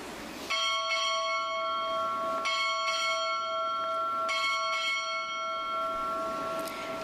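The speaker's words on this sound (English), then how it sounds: "Time orderly, strike 6 bells." A ship's bell strikes six bells at Navy Recruit Training Command: three pairs of loud, clear metallic strokes, each pair ringing on with long sustained tones.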